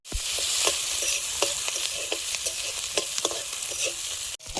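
Chopped onion, nigella seeds and slit green chili fry in hot oil in a wok with a loud, steady sizzle, punctuated by light stirring clicks from a spatula, before a sudden stop near the end.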